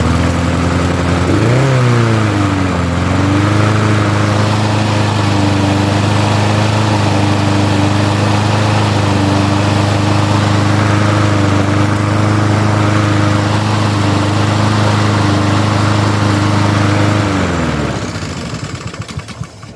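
A Troy Bilt walk-behind lawn mower with a newly installed drive belt is started after a brief pull and then runs at a steady, loud, close idle for a long stretch. The engine note dips once near the start and winds down at the end.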